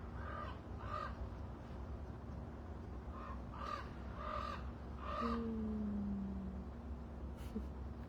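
A crow caws outdoors in a series of harsh, rasping calls, several spaced bursts at moderate distance over a faint background hum, with no talking.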